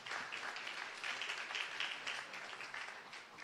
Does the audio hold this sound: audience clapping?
yes